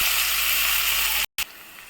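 Chopped onion hits hot oil for a chicken curry with tadka, giving a loud close hiss that runs steadily, cuts out briefly, then resumes quieter and settled.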